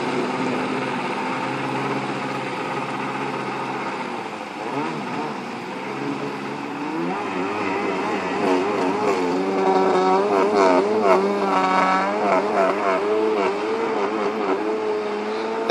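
A Kawasaki JS300 jet ski fitted with a 650 engine rides out, its motor idling steadily before revving up into a wavering, rising and falling whine that grows louder toward the end, no talk.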